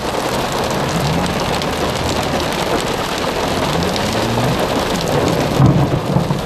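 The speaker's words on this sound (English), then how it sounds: "I've never seen this much hail." Heavy hail pelts cars stopped on a California freeway, a dense, continuous roar of hard impacts close by with no talk.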